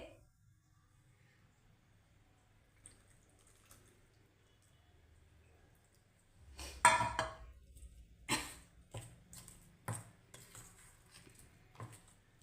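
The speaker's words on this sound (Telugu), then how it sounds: "ఇలా కలుపుకోవాలి" A spoon scrapes and clinks against a bowl as henna paste is stirred, several irregular close knocks and a wet mixing sound after a quiet start, with no talking.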